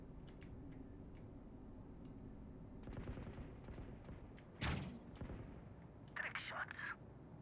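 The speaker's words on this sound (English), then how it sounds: "Shots." Video game gunfire plays faintly under a steady background, with one short burst and then a longer rattling volley near the end, and a voice is present.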